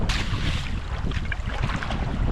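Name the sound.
wind blowing while pack rafting on an Alaskan river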